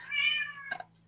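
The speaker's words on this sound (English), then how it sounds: "that's my cat" A house cat lets out a single drawn-out meow, close and clear, ending in a short broken trill, with a steady low hum underneath and no talking.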